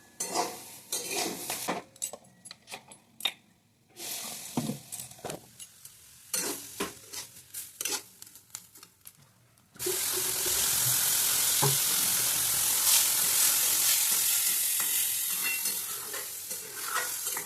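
Semolina is stirred in a pan, starting with intermittent scraping and clinking of a spoon against metal. Partway through, a loud continuous frying sizzle takes over and holds steady to the end. No one speaks.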